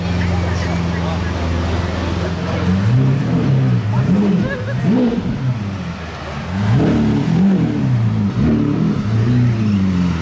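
A yellow Lamborghini hypercar with a non-original rear wing drives past on a Monaco street, its engine rising and falling in revving surges over steady traffic noise, fairly close and loud.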